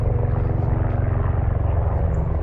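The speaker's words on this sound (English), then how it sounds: "There's another one. And there's another one. Three helicopters." A helicopter flying overhead on a rally day, one of several in the sky, makes a loud, steady, throbbing rotor rumble that fills the whole stretch.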